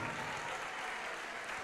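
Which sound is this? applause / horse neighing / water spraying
applause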